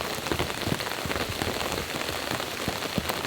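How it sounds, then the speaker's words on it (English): Steady rain from Hurricane Ian pours onto surfaces around a campsite, a dense, continuous patter with scattered louder drops and no voices. "The rain has just begun."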